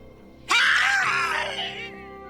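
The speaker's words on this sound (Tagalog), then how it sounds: "Napatigil kami nang marinig namin ang malakas na sigaw" A loud, piercing scream bursts out suddenly and holds for over a second before trailing off, with quieter background sound before and after.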